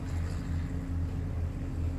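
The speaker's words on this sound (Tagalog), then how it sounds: "Malakas ang hangin, malakas pa rin ang alon." A small fishing boat rides rough water on the Pacific Ocean in strong wind, a loud, close, steady low rumble of engine and hull under gusting wind and wash, with no speech.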